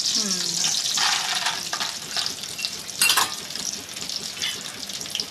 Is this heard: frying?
yes